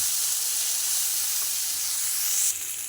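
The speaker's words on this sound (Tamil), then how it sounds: "வெங்காயம் நல்லா வதங்கிடுச்சு." Onions sauté in a pan with a constant, close sizzle and steamy hiss, steady and unbroken, then dropping slightly in intensity near the end.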